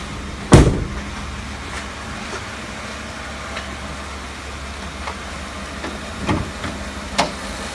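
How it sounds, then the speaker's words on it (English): A truck door on a black 2014 Ford F150 STX with a 5.0 V8 thuds shut nearby, followed by softer clunks and a latch click as the hood release is popped, over a low steady background hum. "I'm gonna go ahead and jump out here now and pop the hood"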